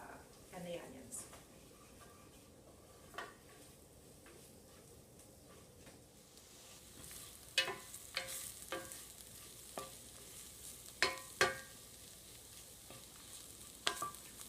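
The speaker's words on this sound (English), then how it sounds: "we'll just let those almonds sort of roast and cook up nice with all the spices and the onions." Almonds roast with oil, spices and onions in a pan for a historical korma, a quiet steady sizzle broken by sharp spoon clicks and scrapes against the pan, with a voice at times.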